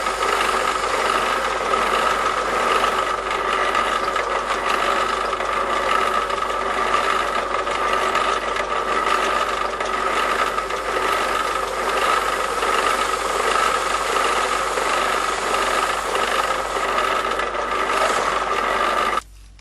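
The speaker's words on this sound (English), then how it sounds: "Drill out pilot holes for the jigsaw." A power drill bores pilot holes through a board for a jigsaw blade while building a portable router table, giving a loud, steady whirring grind that runs almost twenty seconds without a break before stopping abruptly.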